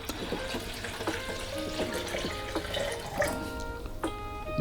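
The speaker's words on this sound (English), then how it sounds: "There's some water in there already, but I'm going to fill it up or top it up with some fresh." Filtered water from a Brita-style jug pours into the water tank of a Nespresso coffee machine. A steady, close trickle and splash runs throughout with small drips, and no talk.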